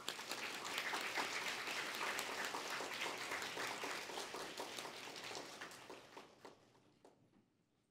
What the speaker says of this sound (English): please give your applause to Dr. Katalin Kariko and Principal Zhiyuan